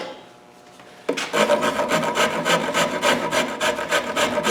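A dragon file and Japanese rasp scrape rhythmically along a wooden guitar neck being hand carved, quiet at first, then loud repeated strokes in a steady back-and-forth rhythm.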